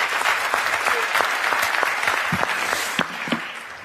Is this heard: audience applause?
yes